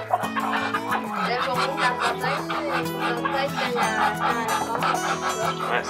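A hen clucking and squawking close by in a rapid, busy run of calls, with other chicken sounds around it and a voice briefly heard.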